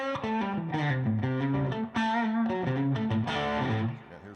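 An electric guitar played through an Orange amp's clean channel with OTS output tube saturation adds light overdrive, a loud, continuous run of melodic notes and chords with a brief break midway.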